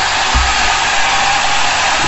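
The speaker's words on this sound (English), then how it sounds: "I test the welding machine, as you can see." A welding machine running during a test gives a loud, steady broadband hiss and hum that holds unbroken throughout, with no voices over it.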